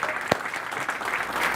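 An audience applauds a speaker as he is introduced on stage, a steady wash of many hands clapping with one sharp nearby clap standing out.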